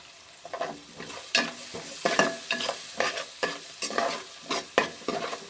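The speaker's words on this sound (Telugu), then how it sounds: "బాగా వేగాలండి ఇవి. చాలా బాగా వేగాలి." Spices fry in oil and are stirred in a pan for fried rice, with a soft background sizzle and repeated scraping strokes of the spoon in a quick, irregular rhythm.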